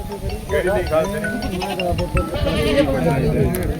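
Goat bleating mixed with steady talk from several people at a goat sale; the animal calls rise and waver throughout, close by and moderately loud.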